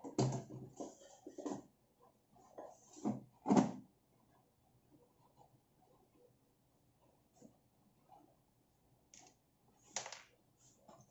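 The basket drawer of a new air fryer slides and clicks into place with a few soft plastic knocks near the start, followed by faint handling taps and a final click, all fairly quiet in a still room.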